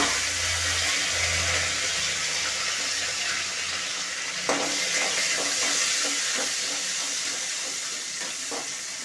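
Curry leaves and onion tipped into hot oil with already-popped mustard seeds for a raw banana fry, sizzling loudly and continuously up close with occasional clatters of stirring.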